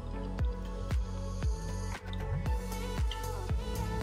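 Sliced onions are tossed with vinegar and plenty of olive oil for a barbecue onion dish. Wet, rhythmic squishing comes about twice a second, close and moderately loud, with no talking.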